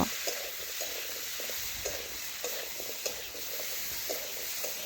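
Vegetables being stir-fried together with spices in a pan for a paneer dish, a steady sizzle broken by repeated light scraping and stirring strokes, close and continuous without voices.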